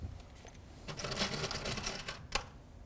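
A screw gun whirs briefly while driving a self-tapping metal screw through a washer into a steam room ceiling panel, with a short sharp click as the screw seats.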